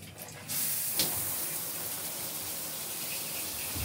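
Shower water starts with a sudden hiss and then runs as a steady, broadband spray close by, with no voices over it.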